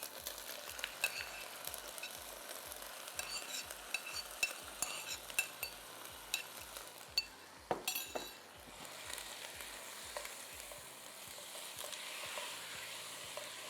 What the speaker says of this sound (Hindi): जैसे ही सॉटे हो जाए तो आपने इसमें ये बीफ शामिल कर देना है।